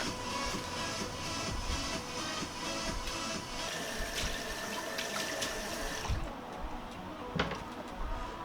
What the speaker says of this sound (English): We're going to strain this off and we're going to put it in cold water